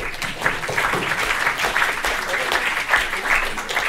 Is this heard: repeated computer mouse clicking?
no